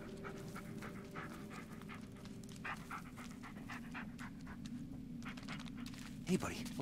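A dog in the Blair Witch video game pants in quick, steady breaths with faint whimpers, set against a low ambient drone, and a brief sharper sound comes near the end.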